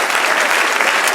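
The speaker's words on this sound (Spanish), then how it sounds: "Denle un aplauso al Señor." A church congregation applauds, a brief burst of dense, even clapping filling a large room.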